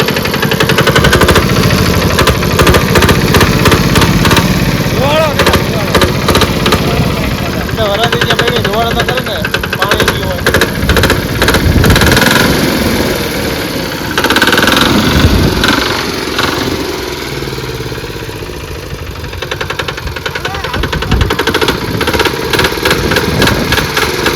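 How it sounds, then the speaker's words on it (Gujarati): A small nano tractor engine chugs and idles loudly in a cotton field with a rough, pulsing rhythm, revving at times, while people talk over it. "વાહ ઉપડી ગયો એન્જિન એટલે એન્જિન છે"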